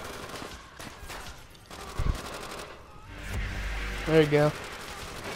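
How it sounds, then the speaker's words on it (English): Gunfire in the World War II shooter World at War during a co-op campaign, a few muffled shots and bursts mixed with mechanical game noise, while players talk briefly over it. "I love the sound of that when you shoot, like, kill somebody with this gun."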